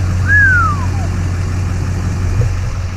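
A 2002 Duramax diesel pickup, looked at as a prospective tow rig, idles with a steady low rumble that runs through the whole moment. A brief rising-and-falling whistle sounds over it near the start.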